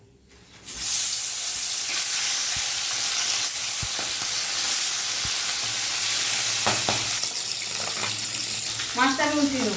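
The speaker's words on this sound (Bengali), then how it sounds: "তেল গরম হয়ে গেছে, মাছগুলো দিয়ে দেবো" Bhola fish dropped into hot mustard oil in a wok bursts into a loud, steady sizzle after a brief quiet start, with occasional spatula clinks and a short voice near the end.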